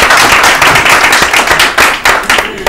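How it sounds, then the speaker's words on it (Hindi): A quiz-show studio audience claps together in a dense, close burst of applause. The individual hand claps stay loud and sharp for a few seconds, then thin out slightly toward the end. "इनके लिए ताली बजाइए"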